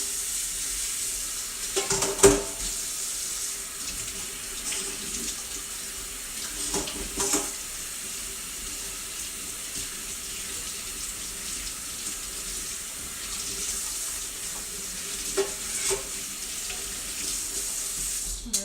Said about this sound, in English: Now, I'm going to wash the tongs off.